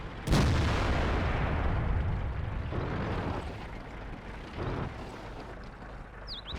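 An IS-8 heavy tank's main cannon fires in World of Tanks: one loud, booming blast near the start, then a long rumbling decay and battlefield noise, with a smaller thump later on.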